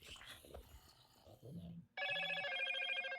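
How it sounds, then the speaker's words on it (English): A phone's electronic ringtone starts abruptly and rings loudly and steadily after a stretch of talking and game sounds. "And that was my phone."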